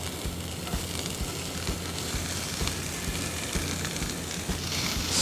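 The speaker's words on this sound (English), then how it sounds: "And it's sizzling, so I'm gonna sprinkle in about a half of a diced" Diced onion sizzles steadily in a hot pan for corned beef hash, a dense, even crackle of frying that holds at a constant level with no voices.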